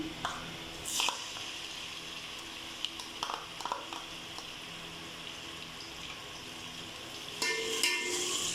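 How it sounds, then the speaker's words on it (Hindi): Onions with ginger garlic paste frying in a pot for a plain rice pulao, a quiet steady sizzle with a few sharper pops and scrapes, swelling louder near the end. "इसको करते हैं अच्छे से फ्राई"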